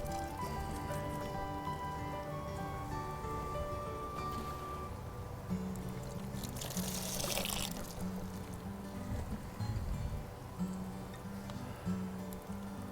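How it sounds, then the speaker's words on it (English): Water-soluble Miracle-Gro fertilizer solution poured onto container-grown plants, a steady close splashing and trickling into potting soil that continues throughout, with faint musical tones in the background. "Now I also have my water-soluble fertilizer, my Miracle-Gro, and we're going to water these up"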